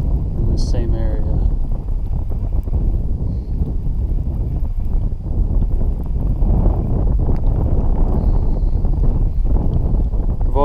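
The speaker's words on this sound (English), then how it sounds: "I've also got this wind." Steady, loud wind buffeting the microphone on a lake while kayak bass fishing, a constant low rumble throughout with faint water and gear sounds, and someone talking at times.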